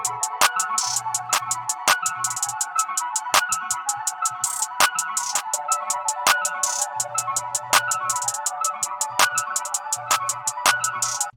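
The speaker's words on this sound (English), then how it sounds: "Next, I put in this hi-hat sound." Programmed hi-hat pattern in an FL Studio beat, fast steady ticks broken by triplet-snapped rolls, playing over a sustained ambient pad with low bass pulses and no voices.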